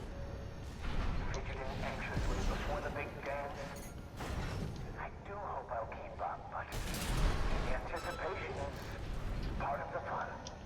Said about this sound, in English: I'm getting hit by the stupid frickin' homing missiles.